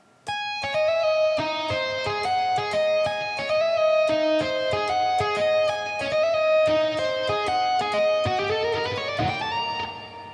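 An electric guitar plays a dissonant shred lick slowed down, distinct picked notes in an uneven rhythm that climb in a rising run near the end, close and clear with no talking.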